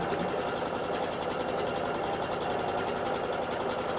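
Bernette B77/B79 sewing machine running steadily at speed during free motion quilting, a continuous close mechanical whir with fast needle rhythm and no pauses.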